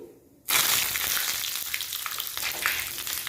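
Curry leaves, broken by hand, drop into hot oil with browned dal for a tempering, setting off a sudden loud burst of sizzling that keeps crackling steadily and close.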